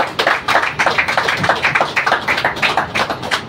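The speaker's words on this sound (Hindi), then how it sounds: "सीसी शाह सर के लिए जोरदार तालियां होनी चाहिए।" An audience claps in a short burst of dense, rhythmic hand clapping, close and fairly loud, with no talking over it.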